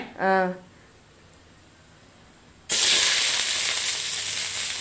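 Mustard seeds and dried red chillies tossed into hot oil for vermicelli upma; after a short vocal sound and a quiet pause, a sudden loud, bright sizzle bursts in and keeps crackling steadily to the end.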